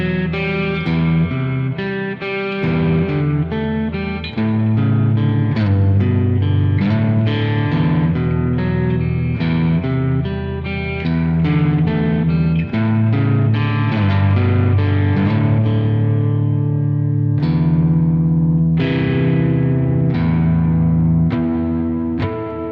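Electric guitar played through an amp simulator with heavy distortion, a continuous stream of chords and picked notes with slight chorus and echo, loud and close, with no voices.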